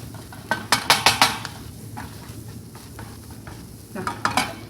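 Butter sautéing in a pan with a soft sizzle, broken by several sharp clinks and scrapes of a utensil against the pan in quick clusters.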